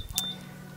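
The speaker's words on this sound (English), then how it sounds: "apologies for the random fridge beeps that come up every now and again in this video" A refrigerator sounds a short electronic alarm, one bright beep, near and moderately loud, then fading into a quiet room.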